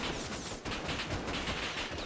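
Dense, continuous gunfire in an airfield battle in a video game, a steady wash of shots filling the scene with no clear pauses.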